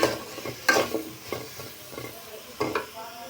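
Papaya and potato pieces fry in a pan and are stirred, giving a continuous close sizzle broken by several scraping clinks of a utensil against the pan.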